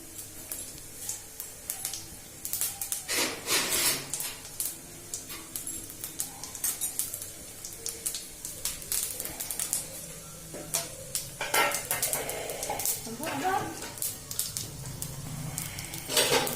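Cumin seeds crackling in hot oil in a pan, a steady fine sizzle broken by scattered sharp pops and spatters, close and moderately loud with no talking.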